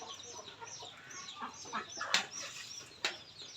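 Chickens and ducks cluck and squawk faintly in a rural yard, with scattered short calls over low background noise and a couple of sharper bursts.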